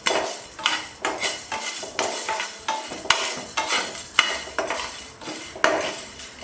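Whole masala chai spices dry roasting in a pan, rhythmic scraping and rattling as a spoon stirs them every half second or so, with faint sizzle underneath and no talk.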